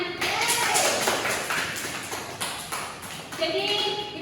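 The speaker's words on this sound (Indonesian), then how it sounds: "Tepuk tangan dulu untuk semuanya" Children in a primary school classroom clap together in a dense, steady wash of applause with a slightly rhythmic patter, mixed with voices.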